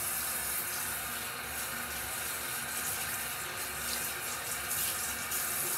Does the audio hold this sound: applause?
no